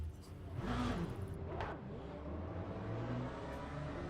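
Race car engines in the Le Mans Ultimate sim racing game rev and rise in pitch at the race start, with a couple of quick sweeping whooshes over a continuous layered motor drone.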